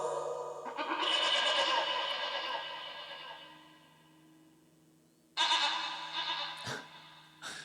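Goats bleat in long, wavering cries, one sustained call fading out, then a sharp new bleat bursting in, close and clear.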